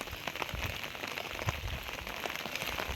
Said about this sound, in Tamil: மழை பெஞ்சிட்டே இருக்கு, இந்த மழை பெய்யறதுனால கஷ்டமா இருக்கு எங்களுக்கு வீடியோ எடுக்கிறதுக்கு.